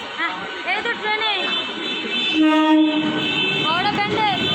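Howrah-Bandel local train pulling into a station platform, with loud rumbling carriages, a long sustained horn blast midway and squealing wheel screeches throughout, amid platform noise and voices.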